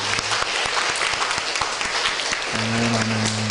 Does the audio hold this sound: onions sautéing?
no